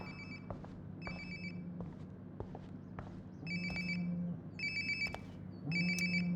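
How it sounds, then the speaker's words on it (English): A phone ringtone in the video game Life is Strange: Before the Storm chimes in repeated short bursts, growing louder and nearer over quiet background ambience, with no talking. "Sounds like my phone is definitely nearby."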